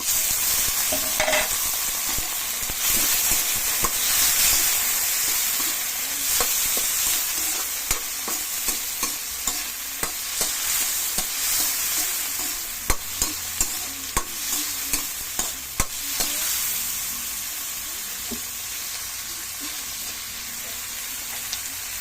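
Tomatoes being stirred into sautéed mung beans in a frying pan, a steady sizzle with repeated scraping strokes of the spoon that grow into a distinct rhythmic series of knocks near the end, close and without talk.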